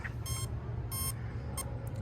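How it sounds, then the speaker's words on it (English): An ARRMA Kraton RC car's electronics give two long beeps and one short beep, a possible LiPo cutoff warning, sounding as clear electronic tones over a steady low background rumble. "I'm getting 2 long beeps and 1 short beep. I'm thinking that might be for lipo cutoff."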